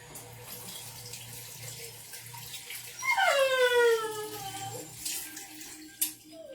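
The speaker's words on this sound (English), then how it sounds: "Let me wash my hands because I'm about to mix this in a bowl." Tap water runs into a sink during handwashing in a home kitchen, a steady close splash, while a dog howls with a rising then falling wail partway through.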